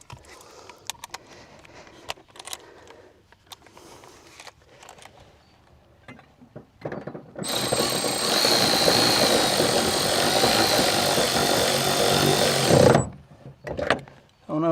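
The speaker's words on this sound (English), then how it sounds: "let me get the ratchet" A ratchet or power driver works on the third brake light of a second-generation Nissan Frontier: quiet clicks and handling noises first, then a loud, steady whirring burst of about five seconds up close before it cuts off into more handling.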